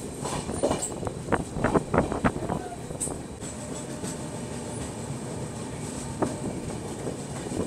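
Passenger train on the Ranchi route running on rails through hilly country with many curves in Sonbhadra, Uttar Pradesh, a steady rumble with a few clacking bursts early on, heard from inside the coach with no talk.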